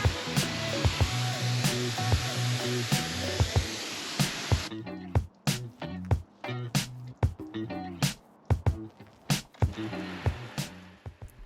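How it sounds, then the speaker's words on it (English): A pressure washer with a detergent nozzle rinses a car on a low-pressure pass, first as a continuous hiss and then as a string of sharp spray bursts with pauses between them. "that's just a detergent nozzle that I'm using, rinsing off nozzle"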